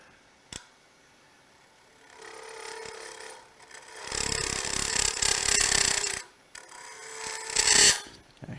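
A spindle gouge cuts wood on a lathe with rough, scraping shaving bursts in several passes, separated by quieter stretches and a sharp click near the start.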